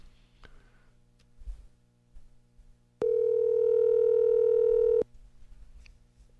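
A steady electronic ringback tone sounds for about two seconds while a phone call is being placed, loud and even, with quiet room noise before and after.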